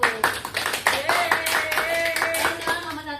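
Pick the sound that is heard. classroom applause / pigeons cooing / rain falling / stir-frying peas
classroom applause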